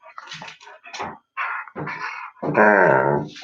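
A puppy barks, yips and growls in short, excited bursts close by, with a louder, drawn-out vocal at the end.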